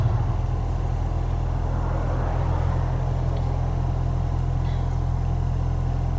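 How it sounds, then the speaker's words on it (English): Slow stop-and-go traffic jam on a long drive near Hollister, heard from inside a car as a steady low engine and road rumble, continuous and moderately loud with no talking. "This is our traffic jam for today"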